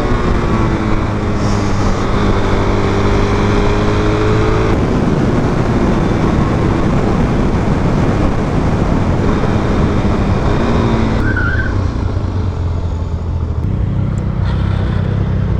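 A Suzuki DRZ motorcycle riding on the road alongside sportbikes, its engine a loud, continuous close drone with shifting pitch and steady wind rush throughout.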